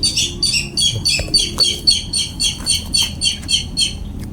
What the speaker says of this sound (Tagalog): Baka ibon na naman yan ni Isol.